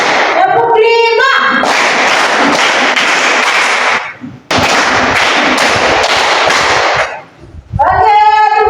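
Schoolchildren clap a counted pattern in unison, two long dense bursts of claps with a short gap between them, loud and close, with a teacher speaking briefly before and after.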